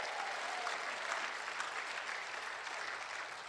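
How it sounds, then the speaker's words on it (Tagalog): Light applause from a congregation at a Tagalog preaching service, a soft, steady patter of many hands that holds evenly without pauses. "Mahinang pumalakpak ang mga tao rito."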